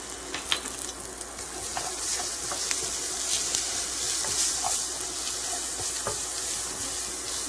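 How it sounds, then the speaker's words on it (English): Italian sausage and peppers saute in a skillet with a steady, close sizzle and hiss, scattered small pops and crackles running through the whole stretch. "I'm going to let those saute for just another minute here"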